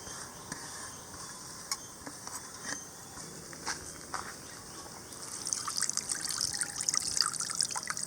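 A small amount of water trickles and patters into a grinder holding grated raw coconut in an outdoor village kitchen, soft at first and then a fuller, brighter pour near the end.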